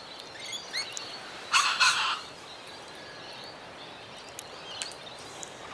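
Outdoor bird calls at Loch Sport where pigeons, a magpie and other birds gather to feed: scattered faint chirps plus one louder, brief burst of calling, heard at moderate distance against quiet background air.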